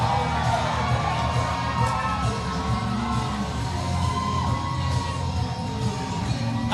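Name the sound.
loud cheering wrestling crowd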